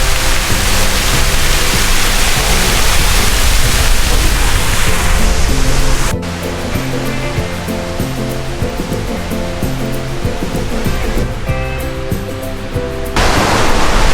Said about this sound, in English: You just, everywhere on this trail, you just hear rushing sounds of cascading water.